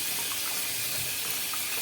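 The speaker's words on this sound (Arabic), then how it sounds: "احنا لازم بنفتح عليه الميه بقى كده اهو" A kitchen tap runs water onto vegetables being soaked for turnip or beet pickles, a continuous, close splashing stream with no talking.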